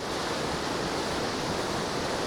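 Steady broadband wash of ocean water and wind while sailing in the VR Regatta game on Arctic seas, an even, continuous surf-like hiss with no breaks and no voices.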